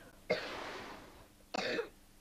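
Two separate coughs about a second apart, the first a drawn-out rasp and the second shorter and sharper, close by with quiet in between.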